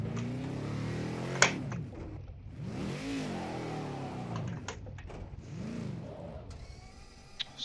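A race car in Project Cars 2 revs in rising and falling sweeps several times, with a sharp click or knock between, before the engine note fades out as it stalls.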